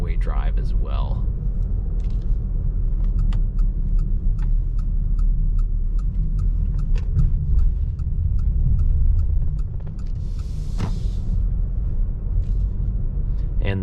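A 2023 Mitsubishi Outlander SEL Premium drives through a well-lit town at night, with a steady low cabin rumble and road noise throughout and a string of faint ticks over it.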